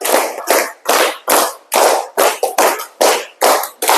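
Schoolroom students clap hands in counted rhythm, a run of about nine loud, crisp group claps in quick steady succession, each a short burst of many hands, near and unaccompanied by voices.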